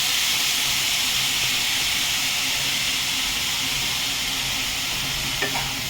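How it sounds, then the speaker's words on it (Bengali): Soya chunks frying in a pan as vinegar goes in, a loud continuous hiss and sizzle close by with a faint clink near the end, no talking. "এবারে এর মধ্যে 1 ঢাকন মতন ভিনিগার দেবো।"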